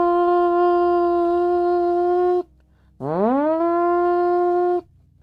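A loud steady siren wail holds for a couple of seconds, cuts off, then sweeps back up and sustains again before stopping.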